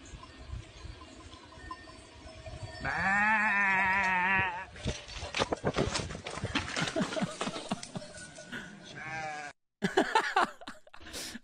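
Goats bleat in loud, wavering, drawn-out cries, with one long call followed by several shorter bleats and noisy commotion, heard close amid a chaotic outdoor scene.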